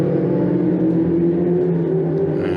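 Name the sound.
Ferrari Challenge race cars speeding down the back straight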